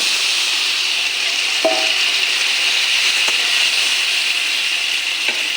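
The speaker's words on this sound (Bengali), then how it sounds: "আমার সিমটা পুরনের সঙ্গে ভালো করে কষে গেছে এবং ভাজা ভাজা করে নিয়েছি" Flat beans with spices fry in a pan with a constant close hiss, broken by a few faint clinks of a utensil; nobody speaks.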